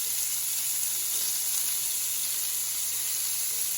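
Bacon sizzles in a cast iron pan with a dense, even, close hiss and crackle that holds steady throughout, with no voices.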